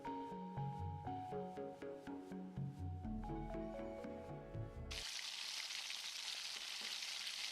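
Egg-and-flour battered zucchini tempura deep-fries in oil, a sudden dense bubbling sizzle bursting in after several seconds of melodic background music, then holding steady and fairly loud.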